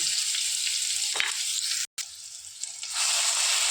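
Curry leaves, crushed ginger, garlic and green chili sizzle steadily in hot oil, a dense close frying hiss that briefly cuts out and then swells louder, with no voices.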